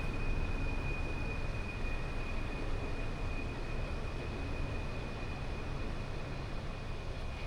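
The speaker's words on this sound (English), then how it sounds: "that is a very noisy train" A noisy train rolls past nearby at a riverside campsite along the Oregon Pacific Crest Overland Route, a steady, dense rumble holding at constant loudness throughout with no talk.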